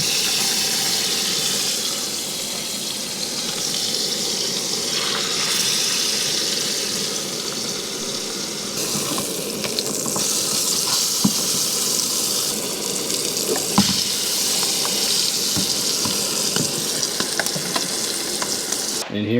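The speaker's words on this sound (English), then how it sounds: "Got a little bit of butter heating up in the pan. I'm just going to drop these right in." Grouse meat drops into butter heating in a pan and sizzles steadily and loudly up close for the whole stretch, with brief sharper crackles and spits poking through the continuous frying hiss.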